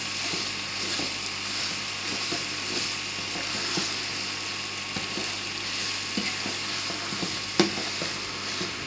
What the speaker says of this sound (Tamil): அப்போ நல்லா அந்த எண்ணெயில் நல்லா அந்த ஆனியன் வந்து எல்லாமே மிக்ஸ் ஆகி நல்லா சூடு பிடிச்சி வர்றது.